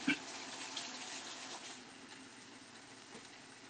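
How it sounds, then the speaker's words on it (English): A tap runs steadily into a sink while hands are washed at a grill, a faint continuous hiss of water with no talking. "Wash my hands a minute."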